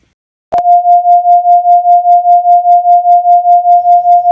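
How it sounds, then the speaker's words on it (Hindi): Two pure tones at 700 Hz and 705 Hz sound together, producing a steady loud hum that swells and fades about five times per second in even beats after a sharp onset. "दोनों साउंड को एक साथ प्ले करके देखेंगे क्या हमें बीट सुनाई दे रहे हैं।"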